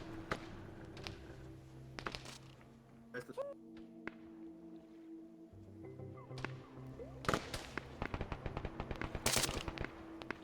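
Arma 3 gunfire during a boat attack: scattered sharp gunshots and bursts, some near and loud, others more distant, with faint voices in the background.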